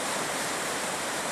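Steady broadband rush of river water flowing along a bank in October, continuous and fairly close, with no voices over it.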